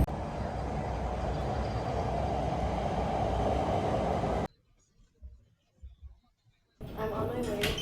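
Steady rumbling interior noise of a moving train for several seconds, then a brief near-silent stretch with faint knocks before the rumble and clatter return.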